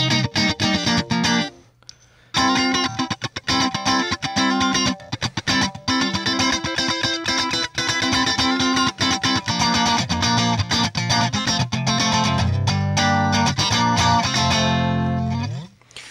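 Electric guitar played through an Overloud TH3 Fender Twin amp simulation, a sustained lively passage of chords and single notes with a brief pause near the start and a slowly fading final chord.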